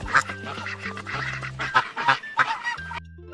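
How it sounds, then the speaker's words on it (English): A farm duck quacks several times in a burst of nasal calls over a steady low musical backing, loud and up front. "A duck says,"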